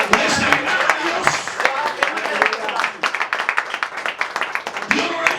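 A church congregation claps during an interpreted sermon, with sharp, fairly close hand claps running throughout under and between voices.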